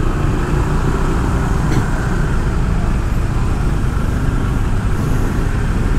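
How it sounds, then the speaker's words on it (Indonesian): A garbage truck moves through busy daytime street traffic on Jalan Pantai Berawa in Canggu, Bali, giving a loud, steady engine and road rumble that stays close and continuous throughout, with no voices. "Ini truk apa nih? Truk sampah ya."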